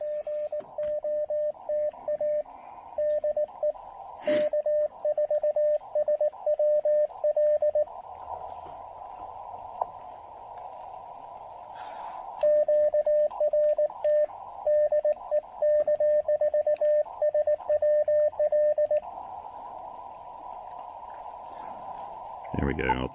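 Morse code CW call keyed on an Elecraft KX2 QRP transceiver outdoors under a shelter, a steady mid-pitched sidetone beeping in rhythmic dot-dash bursts, pausing between two repeated calls with a faint hiss of receiver noise behind.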